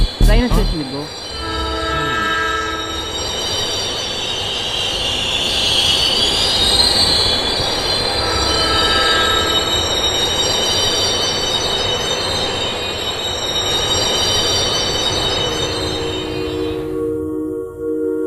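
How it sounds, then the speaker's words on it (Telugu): A train pulls into a station with loud rumbling wagons, squealing wheels and horn blasts, steady and close for most of the stretch before cutting off near the end. "ట్రైన్ వచ్చేసింది"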